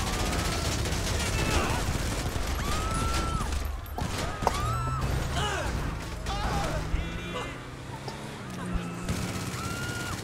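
Gunfire in a GTA video game: dense, rapid bursts of shots and clattering impacts run for about ten seconds, loud and close, with voices shouting over the shooting.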